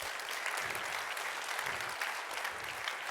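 An audience at a programming talk claps steadily and enthusiastically for about three seconds, a dense wash of hand claps with no speech over it.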